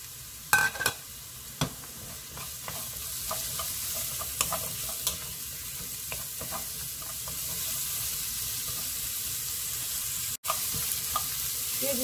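Radish stir-fries with garlic and green onion in a pot, a moderate steady sizzle that grows fuller partway through, with scattered clicks and scrapes of stirring.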